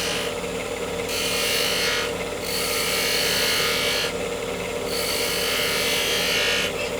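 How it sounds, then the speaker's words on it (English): Wooden Christmas ornament turned on a lathe and shaped with a spindle gouge, giving a continuous close hiss and shaving rasp that swells and eases in regular passes over a steady machine hum. "So I simply want to take a spindle gouge now and make that shape."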